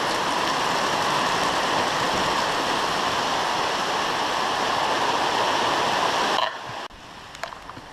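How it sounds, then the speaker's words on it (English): Heavy rain pours off a roof in a dense, steady rush of splashing water, loud and close, cutting off abruptly near the end and leaving quieter rain and a few drips. "It's a lot of water. You can see it's all coming right off the roof here and puddling up, and it's still raining"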